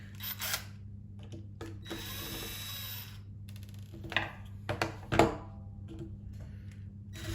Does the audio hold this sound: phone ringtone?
no